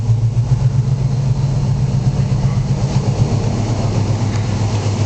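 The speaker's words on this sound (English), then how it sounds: "Fires right up, turn of the key." A restored 1985 Chevrolet C-10 Silverado V8 idling through dual exhaust, a steady deep low rumble held close and loud without a break, no voices.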